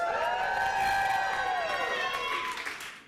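A live theatre audience lets out a loud, sustained cheer of many voices whooping together, holding steady before fading away at the end.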